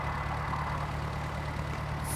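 A tractor engine idles in a tractor driving video game with a full trailer load, a steady low rumble with faint harmonic drone, even and continuous throughout.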